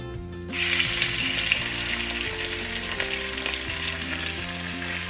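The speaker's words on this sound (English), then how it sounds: "So now the oil is pretty hot, and we're going to be firstly adding the shrimp" Shrimp hit hot oil for Sri Lankan-style shrimp noodles, and a sudden loud, dense sizzle bursts in after a brief quieter moment and holds steadily to the end.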